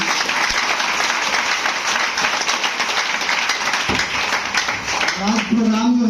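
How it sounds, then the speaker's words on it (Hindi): An audience at a DXN business meeting applauds loudly and continuously, a dense wash of clapping that carries on with a voice briefly audible near the end. "एक जोरदार ताली दीजिए"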